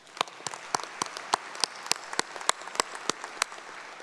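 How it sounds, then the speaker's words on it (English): Scattered commencement audience applause at a fall university graduation ceremony, with individual claps standing out as sharp distinct hits rather than a dense roar, moderately distant and steady for a few seconds. "Let's applaud for them as well, please"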